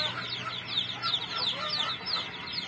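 Young chicks peep in rapid, high repeated chirps while a hen clucks softly beneath them, close by, in a steady busy stream.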